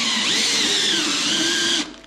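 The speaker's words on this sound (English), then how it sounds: "drill a whole bunch of holes in aluminum" A power drill bores holes in aluminum, a loud, steady high-pitched whine with grinding under it that holds for nearly two seconds, then cuts off sharply as the trigger is released.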